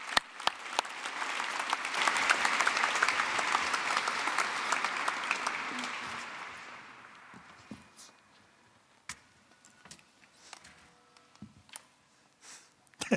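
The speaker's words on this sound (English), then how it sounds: "A warm applause." Warm audience applause in a hall greeting Tilly Lockie onstage, dense and steady for about seven seconds before fading into scattered claps and room noise.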